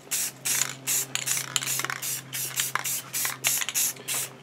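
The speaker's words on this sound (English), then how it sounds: "I'm going to seal this with a gloss Rust-Oleum clear coat." A spray can of gloss Rust-Oleum clear coat hisses in about a dozen short, close, rhythmic bursts, sealing a painted prop base with nothing else heard.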